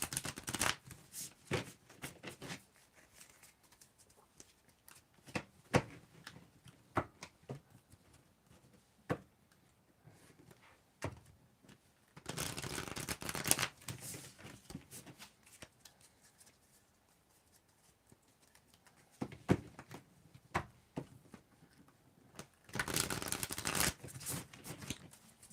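A tarot deck shuffled by hand for a reading, a steady run of soft close card flicks and slides, with denser, louder bursts of riffling at intervals.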